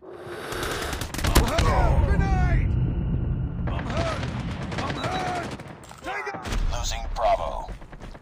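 Call of Duty Mobile Domination match with loud automatic gunfire bursts and rumbling impacts, broken by short pauses, while in-game voice callouts play over the shooting.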